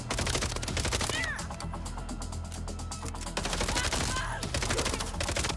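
Rapid gunfire from a weapon in a video game, a dense rattling burst that runs almost without a break for about five seconds, loud and close, with a slight dip in the middle before it picks up again.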